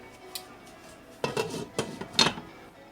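A metal lid set onto a cooking pot, with a few clanks and rattles in a quick cluster as it is placed, close and fairly loud against a quiet kitchen.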